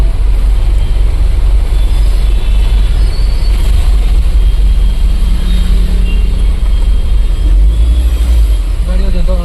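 Heavy road traffic in Bangalore rain, with buses and cars jammed together, makes a loud, steady, rumbling wash of engines and rain throughout, with faint voices talking underneath.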